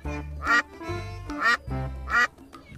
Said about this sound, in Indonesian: ternyata ada bebek